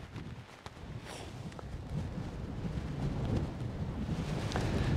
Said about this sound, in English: it is a challenge playing in the wind right now